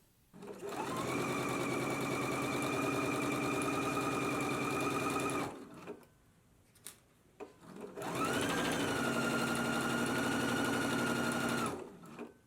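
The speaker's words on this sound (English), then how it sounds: "I'm going to go to the machine and we're going to stitch it at a 3/8 of an inch seam allowance" A sewing machine stitches the center back seam of a jumpsuit at a 3/8 inch seam allowance, running in two long steady bursts of rapid whirring with a brief quiet pause between, close and alone.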